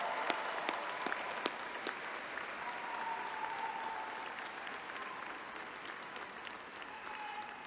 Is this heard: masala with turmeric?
no